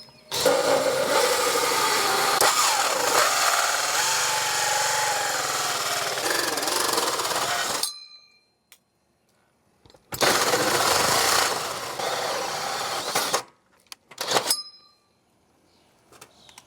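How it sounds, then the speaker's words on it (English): A 2.5 inch hole saw on a drill cuts through an outside wall while a DIY mini split is being installed. It grinds loudly and steadily for about eight seconds, then comes back for a second burst of a few seconds, with short bits and pauses after. "Now I'll take the same hole saw and drill a hole through the outside wall here."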